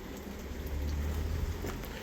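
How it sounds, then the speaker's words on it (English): Heavy rain pours down outdoors as a steady, dense hiss with a low rumble beneath, constant and close throughout. "It's pouring down rain."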